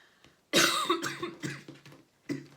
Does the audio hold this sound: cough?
yes